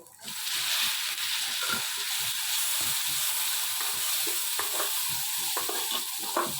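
Moong dal mixture being stirred in a frying pan, a continuous scraping sizzle with repeated spoon strokes scraping the pan, close and steady, no voices.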